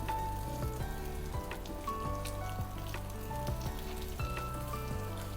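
Onions fry in a pan for a home-cooked mandi. The soft, even crackling sizzle runs throughout over a steady tonal background hum, with a few faint clicks scattered through it.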